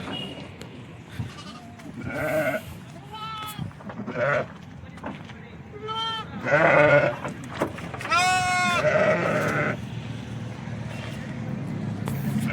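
Several sheep bleat nearby, some long wavering calls overlapping, mixed with people talking and a vehicle rumbling in the background.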